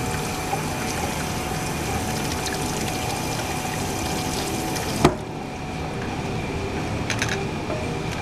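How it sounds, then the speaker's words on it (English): Cold water rushes steadily through a plastic beer line being flushed during a keg change, a continuous close pouring hiss that stops abruptly with a click partway through, leaving quiet. "flush out the hot water with cold water because this is a plastic line"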